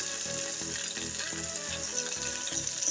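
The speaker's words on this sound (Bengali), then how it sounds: "আমি বাকি চিকেনগুলো নামিয়ে এভাবেই ভেজে নেব।" Chicken tandoori pieces frying in a pan on a gas stove, a continuous moderate sizzle with faint crackles of hot oil heard close up and without talk.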